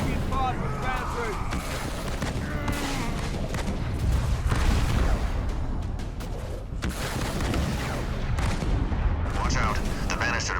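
Gunfire and artillery from the real-time strategy game Halo Wars 2 rumble in steady, dense volleys with deep booms, while voices talk over the battle.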